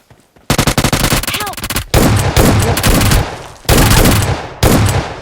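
Automatic gunfire from the mobile game PUBG Mobile rattles in loud, close, rapid bursts separated by short pauses.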